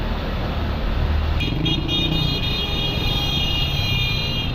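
A car horn sounds partway through and holds steadily over the loud, constant rumble of traffic.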